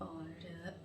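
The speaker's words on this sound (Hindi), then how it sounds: "मेरी हिचकी चल गई है।" A woman's hiccup comes as a brief, sharp burst at the very end, after soft Hindi talk in a quiet indoor room.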